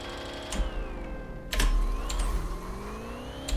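A Ford Focus engine in the racing game Rush Racing 2 revs hard and shifts through its gears, rising whines dropping sharply at each quick change, with a clicking shift into fourth, loud and close with no talk.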